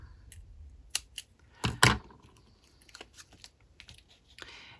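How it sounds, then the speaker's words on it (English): Scissors snip through card paper, cutting a scrap in half for a handmade card: a few sharp, close crunching cuts with a louder pair of snips in the middle, set against quiet rustling and small clicks of handling. "let's just snip it in half"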